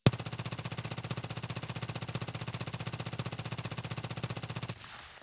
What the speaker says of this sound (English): here we are in the hideout, and we're gonna be shooting this thing.